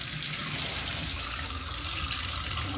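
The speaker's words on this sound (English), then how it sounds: "Just gonna make sure we're getting enough hot water before we put it all back together." Hot water runs steadily from a shower after a pressure balance cartridge replacement, a constant hissing splash with no pauses and no talk.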